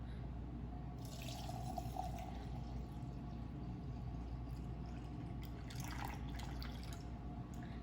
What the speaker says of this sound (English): Then you can add your water.